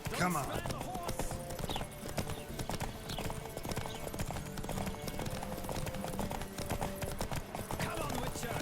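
Rapid hoofbeats of a horse galloping in a race in the video game The Witcher 3, an even, driving clip-clop that runs loud and close from start to finish, with a short whinny near the beginning.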